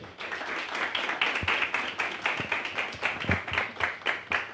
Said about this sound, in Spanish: quiero pedirles por favor un aplauso